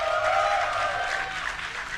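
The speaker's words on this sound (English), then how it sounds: "give a cheer for Star Tales July!" A Dreamhack esports crowd cheers for the StarCraft player StarTale July, a short swell of applause and whoops from a large audience that fades slightly.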